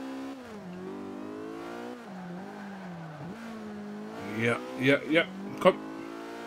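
Race car accelerating at Silverstone in the Forza Motorsport 5 video game, a steady engine whine rising and dipping through gear changes, with a voice speaking briefly near the end.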